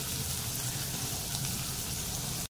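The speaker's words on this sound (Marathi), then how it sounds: "ती चांगली लाल होईपर्यंत ना परतवून घ्यायचंय कांदा, मिरची आणि लसूण" Onion, green chili and garlic frying in a pan for a spiced tempering, giving a steady, close crackling sizzle that holds evenly throughout and then cuts off abruptly.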